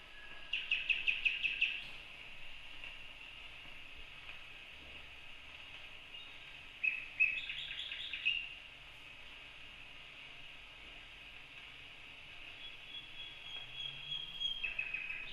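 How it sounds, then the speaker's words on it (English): Bird songs play from old 78 RPM shellac records, with bursts of high chirping and trilled calls at the start, again near the middle and at the end, over steady record surface hiss. "I also collect 78 RPM records of bird songs"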